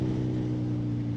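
A Kawasaki ZH2 supercharged motorcycle exhaust holding a steady low droning engine note, loud and close in a brief continuous stretch.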